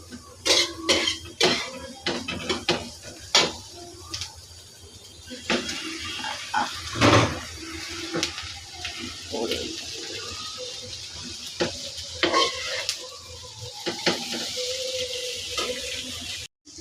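Rice being mixed with egg in a frying pan, a series of sharp metal spatula clanks and scrapes in irregular bursts, close and loud, with a faint sizzle between strikes and no talking.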